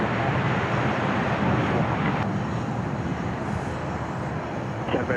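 Aircraft noise at Dallas Love Field airport, a Southwest jet waiting as a business jet arrives: a loud, broad, steady roar of engines with wind rumble, continuous and unbroken throughout.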